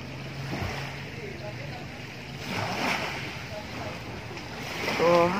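Waves wash onto a sunny beach, a soft steady surf with gentle swells and light wind noise, heard from close by at low level.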